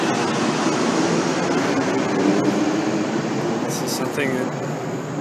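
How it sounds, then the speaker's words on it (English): A jet aircraft passes over Theodore Roosevelt Island on the Potomac River in Washington DC, a steady broad roar that stays loud throughout while someone talks over it. "And again, there's another jet,"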